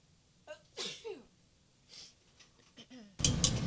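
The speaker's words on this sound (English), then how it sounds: "I had to sneeze." A single sharp sneeze follows a few quick inhaling breaths, then a burst of noise closes out the quiet stretch.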